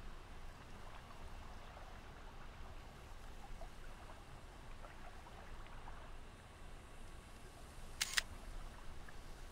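A single crisp camera shutter click from the in-game photo mode of Assassin's Creed Origins lands near the end, over a steady bed of flowing water and distant surf ambience.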